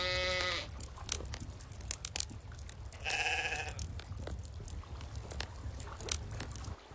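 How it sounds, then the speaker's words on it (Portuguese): Sheep in Medieval Dynasty bleat twice, a brief cry at the start and another midway, over soft crunching, rustling ambient game sounds. "não falei que era as ovelhas aí"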